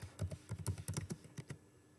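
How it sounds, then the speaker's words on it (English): Rapid keystrokes on a computer keyboard while a search term is typed into a search bar, a quick uneven burst of close clicks that stops after about a second and a half. "If you go up to the search bar and you type in poetry"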